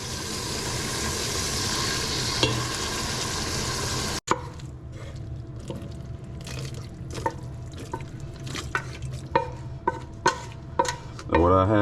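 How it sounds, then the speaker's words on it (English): Fat drained from cooked ground beef for a hamburger macaroni casserole, first a steady pouring wash, then a quieter stretch of scattered drips and small clinks before a final bump. "we're gonna drain the fat off it"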